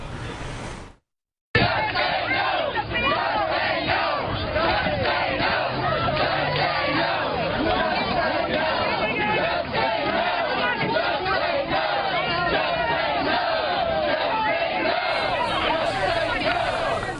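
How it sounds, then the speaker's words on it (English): A town hall crowd at a grocery store in Austin chants "Just say no" at Congressman Doggett, loud, rhythmic shouting and babble that runs continuously after a brief cut near the start. "the crowd yelling, "Just say no, just say no.""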